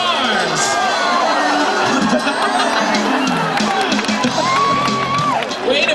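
A lively audience at an Atlantic bottlenose dolphin show cheers and shouts loudly and steadily, with children's high-pitched yells and whistles rising from the crowd throughout.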